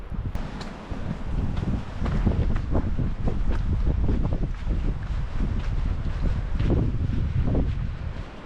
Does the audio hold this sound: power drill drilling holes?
no